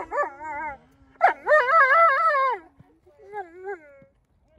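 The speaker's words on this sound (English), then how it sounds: "we just have dogs talking" Several dogs at an indoor dog show in Des Moines howl, yip and whimper in drawn-out, wavering calls, with a short bark, close and fairly loud, while a person talks briefly in between.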